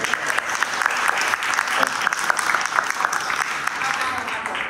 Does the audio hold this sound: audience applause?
yes